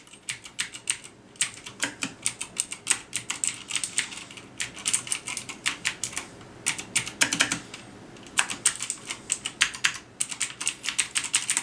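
Bursts of rapid, clicky typing on a Razer BlackWidow mechanical keyboard with MX Blue switches, sharp tactile clicks in quick runs with brief pauses, close up and without speech.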